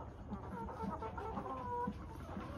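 Brahma rooster and hen kept in a quarantine pen cluck in a steady run of soft, evenly spaced calls over a constant low background hum.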